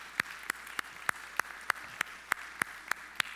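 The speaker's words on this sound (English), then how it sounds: "We want to give them a round of applause" Evenly spaced claps, about eleven in steady rhythm, ring out during a church service, fairly quiet and clean against a low background hum with no voices over them.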